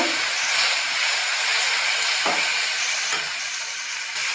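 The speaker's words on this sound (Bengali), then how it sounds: "মশলাটা ভালো করে ভাজা হয়ে গেছে" Spices such as cumin seeds, dry red chillies and ginger fry in a pan for a prawn and bottle gourd curry, giving a continuous close hiss and sizzle with a few soft clicks and no speech.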